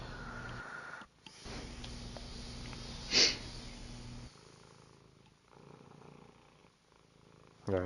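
A happy house cat purring loudly and close, a continuous rumbling purr broken by gaps and one sharp sniff-like burst midway, with no voices present.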